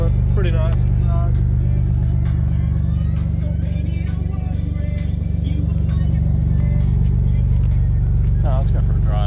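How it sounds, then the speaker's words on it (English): Rumbling exhaust of a twin turbo Toyota Aristo on Dickie 18-inch wheels, a steady loud low drone throughout with a voice talking over it. "Cannot hear you over the exhaust."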